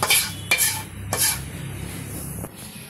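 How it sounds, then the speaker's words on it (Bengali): Pui shak greens are stirred and fried with masala fish in a pan, with several sharp metallic scrapes and clinks of a utensil over a soft, continuous sizzle. "শাক দিয়ে শাকের সাথে মিশিয়ে আবার কষায় নিতেছে মানে রান্না করে নিতেছে"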